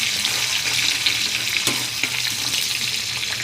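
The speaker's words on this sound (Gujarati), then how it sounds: "हवे आमां मैं डूंगरी एड करीश। एने सातड़ी लईशुं आपणे बराबर।" Onion sautéing in oil with garlic in a pan, a steady close sizzle and crackle with stirring throughout, no voices.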